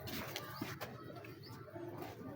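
A female field pigeon coos softly amid low background rumble and faint chirps, the calls quiet and intermittent with no speech.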